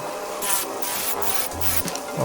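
A motorized sander grinds against wood in a rough, continuous rasp, with short pulses of harsher scraping as it moves across the surface.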